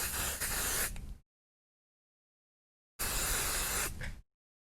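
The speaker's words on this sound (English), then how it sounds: "So I'm actually going to spray this off camera so I don't get it all over my background." Two loud bursts of repositionable adhesive from an aerosol can, each about a second long, separated by a silent pause.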